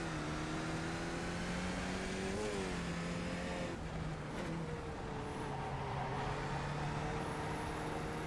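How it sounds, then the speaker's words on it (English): In a sim racing game at the Okayama circuit, a race car's engine drones steadily with shifting pitch as another car approaches from behind, a continuous close motor tone with no talk. "And watch your mirrors, there's a car approaching."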